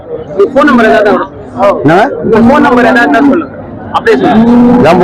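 Cattle at the Morepalayam cattle market, including HF and Jersey calves, give loud, drawn-out moos close by, one after another, with people talking in the background.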